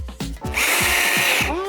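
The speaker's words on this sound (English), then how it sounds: "You need to exert force when you drill." A power drill driving screws into a designer chair, its motor whine rising and holding steady for about a second after a few short bursts and knocks, loud and close with no talk.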